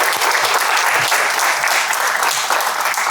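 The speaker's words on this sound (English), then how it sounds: "Let's give her another round of applause, everyone." Audience applause at a speaker-series event closing, steady dense clapping filling the whole stretch at close range, with no voices on top.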